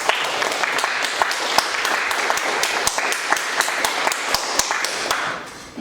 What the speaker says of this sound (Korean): 다들 큰 박수 부탁드립니다.